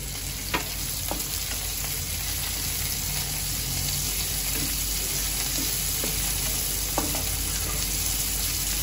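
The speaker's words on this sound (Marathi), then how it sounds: "मिरची मी 2 मिरच्या कापून घेतल्या आहेत उभ्या आणि कढीपत्ता घालून घेते। या सर्वांना मी चांगलं परतून घेते।" Green chillies slit lengthwise and curry leaves sautéing in hot oil give a steady, close frying hiss, broken by a few soft stirring clicks, with no talking.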